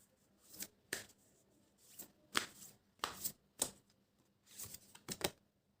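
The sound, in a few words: shuffling a deck of tarot cards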